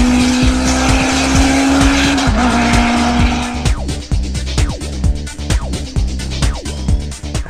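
A Formula BMW open-wheel race car in the Live for Speed racing game screams at high revs with rapid gear shifts and tire squeal, loud and continuous, with no voices.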